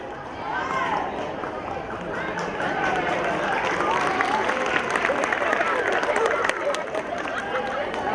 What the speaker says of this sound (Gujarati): ખૂબ ખૂબ તાળીઓથી વધાવી લો